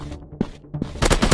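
Gunfire in a 3D first-person shooter game: a few sharp single shots followed by a rapid burst of automatic fire, loud and close.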